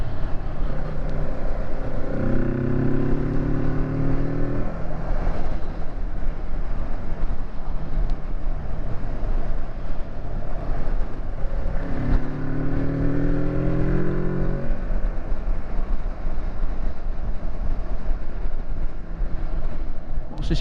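Kawasaki Z650 motorcycle exhaust, a steady rumble from a parked bike with two rising rev bursts, fairly loud against wind noise on the microphone.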